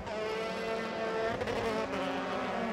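A Euroformula race car accelerating on the Jerez circuit in Spain, a steady high-pitched engine whine with rising harmonics, heard from a distance at moderate level with no talk.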